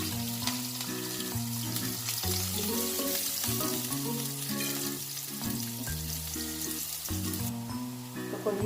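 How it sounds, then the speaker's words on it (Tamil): Onions frying in hot oil in a pan for a Tamil bread roll dish, a steady loud sizzle that continues under background instrumental music, with no one talking. "எண்ணெய் ஊற்றிடலாம். வெங்காயம் போட்டுடலாம்."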